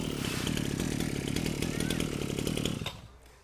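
A Japanese two-stroke brush cutter fires up after a pull-cord start and runs with a loud, buzzing rattle that cuts off abruptly near the end.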